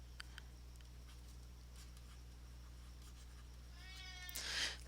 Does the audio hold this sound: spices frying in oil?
no